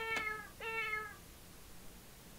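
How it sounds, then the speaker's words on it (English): Two short cat meows in quick succession, fairly close and clear, followed by quiet background. "And their pet cat."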